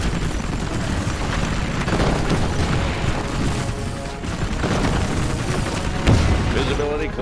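A Laser Comanche helicopter opens fire in the strategy game C&C Generals Evolution, a dense barrage of booming blasts and zapping shots over constant rotor rumble, with a sharper hit near the end.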